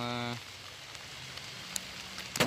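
Steady rain patters in a hiss on a rainy night during rat trapping, with a brief voice at the start and a few scattered drips and knocks afterward.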